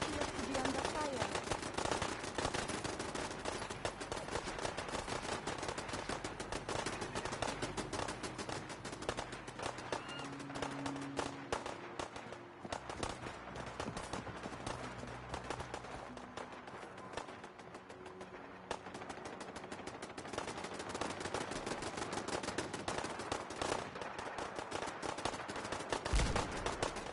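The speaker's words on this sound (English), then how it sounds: "We appear to be under fire." Sustained gunfire in the video game Fallout 4, rapid automatic bursts and shots crackling continuously and loudly throughout, with a brief lull midway before the firing picks back up.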